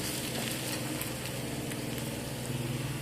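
Ginger and garlic sizzle in hot oil in a pan while fish egg curry is being cooked, a steady close crackling hiss with faint stirring, no voices.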